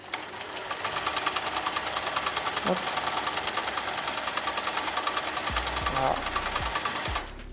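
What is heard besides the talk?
Janome Combi 10 combination sewing machine and overlocker stitching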